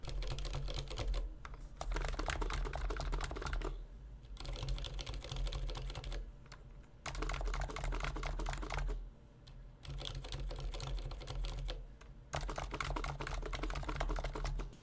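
Someone types on an ABKO AR96 keyboard with Cherry silent red switches. The keystrokes are muted and fairly soft, arriving in quick bursts with short pauses between them, over a low steady hum.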